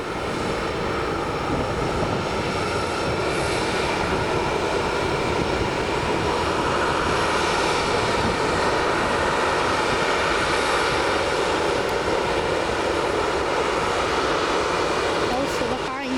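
Jet airliner engines at Manchester Airport, with easyJet aircraft around, give a loud, steady, broadband roar that holds without letup for the whole stretch, close and dominant; a voice may be faintly mixed in under the noise.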